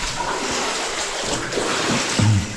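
Steady sloshing and splashing of water as someone wades through it in rubber boots at the Riese underground complex, Jawornik, with a few heavier splashes toward the end.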